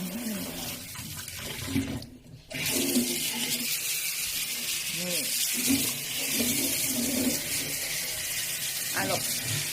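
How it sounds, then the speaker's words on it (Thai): Strong, steady rush of water from a 360-degree rotating faucet, loud and continuous for most of the span after a brief dip, with a voice talking faintly over it. "น้ำก็แรง น้ำแรงมาก"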